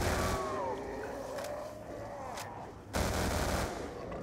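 Gunfire from a weapon in Black Ops 2 Tranzit Zombies, with bursts of shots and a sharp loud burst near the end over steady game background noise.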